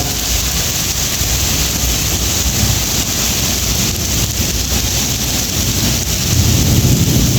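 Heavy downpour mixed with falling hail in the UAE, a steady dense roar of rain with gusty wind buffeting the microphone, loud and continuous throughout.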